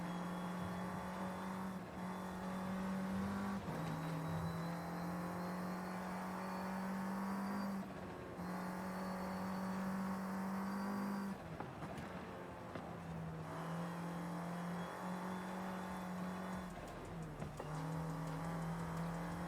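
A car engine in the Forza Horizon 5 racing game revs steadily under constant throttle, its turbo spooling up, with a few brief dips where the pitch drops as gears change, loud and continuous throughout.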